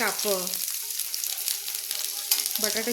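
Okra slices pan-roast in a hot pan with a bright, continuous crackling sizzle, close and fairly loud, with brief tonal squeaks near the start and end.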